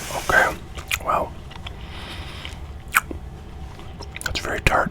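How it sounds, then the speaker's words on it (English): Crunchy bites and chewing of a tart cherry candy, recorded very close in a quiet room, come in irregular bursts mixed with soft whispered talk. "I usually try to be eating or chewing something"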